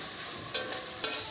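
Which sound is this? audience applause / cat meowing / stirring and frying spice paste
stirring and frying spice paste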